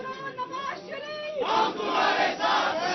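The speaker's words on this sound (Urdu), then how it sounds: "پلیز نعرے بازی بعد میں" A crowd at a political address to a lawyers' wing in Rawalpindi chants slogans, a dense roar of many voices rising and swelling loudly, continuous throughout.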